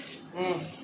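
Water poured into a pot of mutton biryani while cooking, a brief, faint splashing stream lasting under a second that swells slightly midway.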